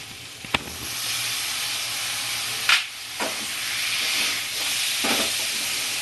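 Spices, dried chilli powder and tomato sizzle and hiss in a pan for Bengali-style mutton keema with kabuli chana, a steady close crackling fry with a few sharper spits and bursts.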